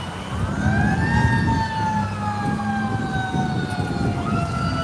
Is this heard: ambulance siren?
yes